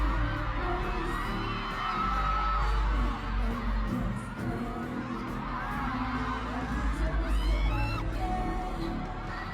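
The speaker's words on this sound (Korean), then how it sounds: "간주가 나오자 벌써부터 팬들은 목 놓아 소리를 지르는데요." Fans scream and cheer in a dense, sustained roar as the intro of a song starts at a concert-style fan meeting, with a loud crowd wash and a few higher shrieks swelling over the music.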